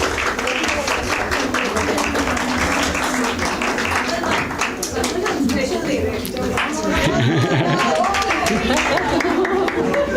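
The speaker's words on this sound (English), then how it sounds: "Big round of applause for everyone." Seminar attendees applaud with a steady patter of many hands at a homoeopathy research publications event, lasting throughout while a voice talks over it.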